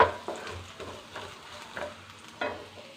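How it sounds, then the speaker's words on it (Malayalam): Ingredients for moru curry sizzle in a pan while a spoon stirs them in a few distinct scraping strokes, close and moderately loud over a low frying hiss. "ഇത്രയും സാധനം നമ്മൾ വഴറ്റിയെടുക്കാം."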